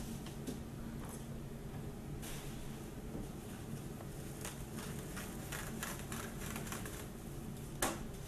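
Bubble wrap is layered around an insect collection box, with soft close crinkling and scattered small crackles and pops through several seconds, one sharper snap near the end.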